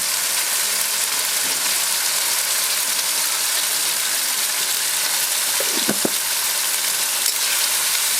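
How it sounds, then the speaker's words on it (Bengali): Tomatoes frying with salt in a pan for a mixed vegetable dal give a loud, dense, constant sizzle, close up, with a brief clicking scrape midway and no talking. "টমেটোটা একটু ভালো করে ভেজে নেব"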